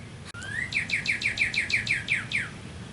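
Clear bird chirps repeat in a quick, even series of about ten bright, descending whistled notes over faint low background hum, with no talking.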